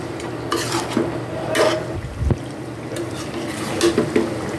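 Meat braising in a pan is stirred with a spoon in repeated scraping strokes over a steady low sizzle, close and clear.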